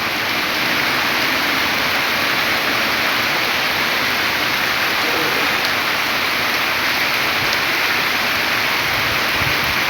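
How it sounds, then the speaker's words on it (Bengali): Heavy rain pours steadily beneath a banyan tree at a village bazaar, a dense, loud, continuous hiss of falling water lasting throughout with no pauses. "প্রচুর বৃষ্টি,"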